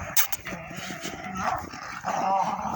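A dog gives a few short yips and whiny barks at moderate distance, mixed with faint scuffling and background noise.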